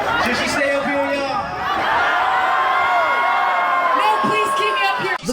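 A concert crowd reacts with continuous loud cheering, whoops and chatter, sustained throughout with high voices rising above the general hubbub.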